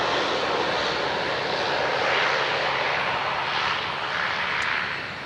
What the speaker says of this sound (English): There's the Cessna 208 Caravan.